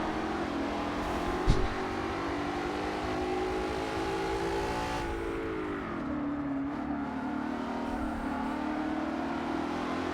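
Racing car engine from the Forza driving game, a steady sustained drone with rising and falling revs for about ten seconds, with a brief sharp knock near the start and no talk.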